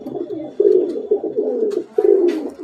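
Pigeons of A1 quality kept at a Kolkata home loft coo in repeated low, rolling phrases, close and fairly loud, with a few brief higher chirps between the coos.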